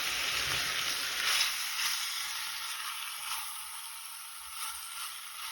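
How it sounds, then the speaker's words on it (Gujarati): Ivy gourd and potatoes with spices are stirred in a hot pan, giving a steady close sizzle and hiss with soft scraping movements and no talking. "હવે ટીંડોળા અને બટેટાને મિક્સ કરી લેવાના છે."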